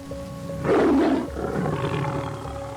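An old black-maned male lion roars once on the African savanna, a close, deep, rumbling bellow that swells suddenly and then trails off into a lower, breathy fade.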